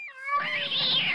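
A cat in a video game lets out a sharp, strained meow that turns into a harsh, raspy yowl as a fox attacks it, close and alone.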